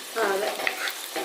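A ridge gourd dish fries in a pan as it is stirred, giving a brief, soft sizzle with a couple of scraping strokes.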